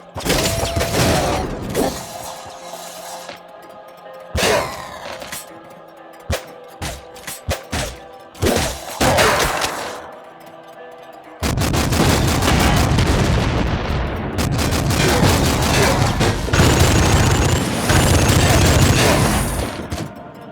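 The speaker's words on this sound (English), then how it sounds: "Those big guys also explode." Nuclear Throne gameplay brings dense bursts of gunfire, shattering hits and booming explosions from big enemies. Sharp individual blasts in the first half give way to a sustained, loud barrage of explosions and rapid fire.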